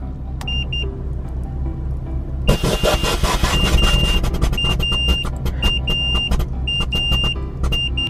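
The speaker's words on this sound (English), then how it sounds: "So you guys can hear the management of the tank adjusting to the actual PSI." A BMW M2 F87 with air suspension airs out as the rear tank and management adjust pressure, a broadband hissing rush with repeated short electronic beeps over a steady low rumble.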